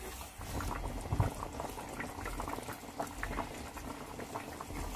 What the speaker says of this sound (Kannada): ಈಗ ನೋಡಿ ಸಖತ್ತಾಗಿ ಕುದೀತಾ ಇದೆ